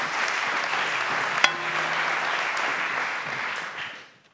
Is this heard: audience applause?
yes